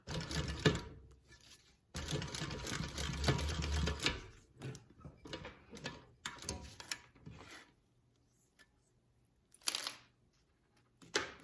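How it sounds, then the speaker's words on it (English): Sewing machine stitching the edge beside a zipper, running in close mechanical bursts with short pauses, then lighter intermittent runs and a quieter stretch near the end. "you can stitch the edge here so that your zipper doesn't fly off"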